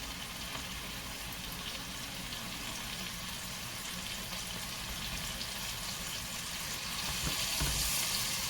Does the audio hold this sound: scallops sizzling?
yes